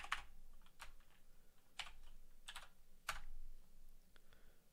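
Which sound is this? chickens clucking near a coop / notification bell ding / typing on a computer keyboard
typing on a computer keyboard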